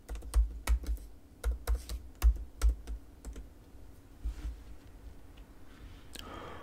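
Keys clatter on a computer keyboard as a username and password are entered, arriving in quick bursts of clicks with short pauses between, fairly close and alone with no talking.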